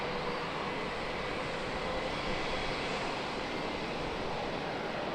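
A JetBlue Airbus A320 takes off at San Diego, heard as a broad, steady, distant jet roar that holds level with no voices.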